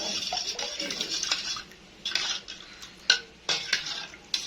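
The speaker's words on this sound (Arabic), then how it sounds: "بجيبهم كده معايا في قلب الميه واقلبهم جامد كده معايا" A spoon clinks and scrapes against a bowl while stirring spices, including fried chicken seasoning, coriander and cumin, into water. The strokes come in short, bright bursts with pauses between them.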